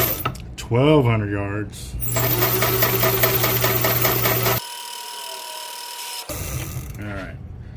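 A spooling machine winds fishing line onto a reel in a steady, busy mechanical whir that runs several seconds before stopping abruptly, with someone talking briefly before and after.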